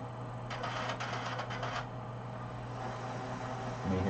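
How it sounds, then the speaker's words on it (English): A Sawgrass SG500 printer whirs and rattles nearby during setup, with a burst of rapid mechanical chatter early on, then a low steady hum of the feed running. "You may hear in the background the printer is still going through and loading."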